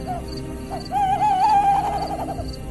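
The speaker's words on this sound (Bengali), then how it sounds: "বাইরে থেকে একটা পেঁচা চেঁ চেঁ করে চেঁচিয়ে রাতের অন্ধকারকে চিরে" An owl gives a single drawn-out, wavering call that rises and trembles for about a second, clear against a quiet background.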